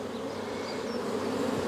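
Honeybees buzz steadily in a dense, continuous drone close by during a hive inspection with brood frames opened, with no voices over the hum.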